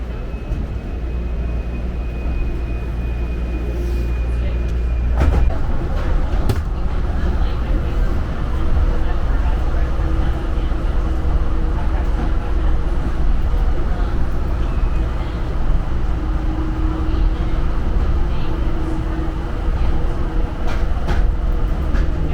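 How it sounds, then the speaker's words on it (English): An airport people-mover train at Hartsfield-Jackson Atlanta runs between stations with a steady low rolling rumble and faint rattles, heard from inside, with a thin whine early on and a recorded voice announcing over the noise. "We are approaching Airport Station. Please hold on, this train is stopping."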